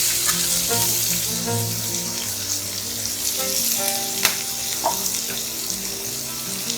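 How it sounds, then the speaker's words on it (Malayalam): Finely chopped onions fry in hot oil in a kadai, giving a steady, bright sizzle with occasional light clinks and stirring scrapes close by. "ഈ ബാക്കിയുള്ള എണ്ണ ഞാൻ ആ കടായിലേക്ക് ഒഴിച്ചിട്ടുണ്ട്. അതിലേക്ക് നമുക്ക് സവാള ചെറുതായി അരിഞ്ഞത് ആഡ് ചെയ്യാം."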